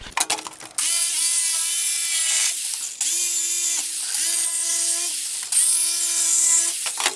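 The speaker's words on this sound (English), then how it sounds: "That's probably going to be my #1 tip for making your jigsaw cuts and life so much easier is making relief cuts" An orbital jigsaw makes relief cuts in wood: a loud, steady buzzing whine in three long bursts, each starting abruptly after brief clattering pauses, heard alone and close.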